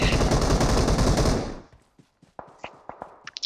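Gunfire in the video game PUBG: a loud, dense burst of rapid automatic shots lasts about a second and a half, then fades into scattered single distant shots and thuds.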